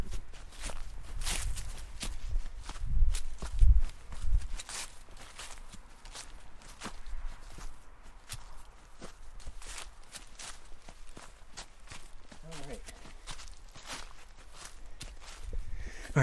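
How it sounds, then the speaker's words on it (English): Footsteps crunch steadily through leaves in a woodland, a clear regular walking rhythm of close scuffs and crackles that runs throughout at moderate level with no talking. "this whole time we've been walking"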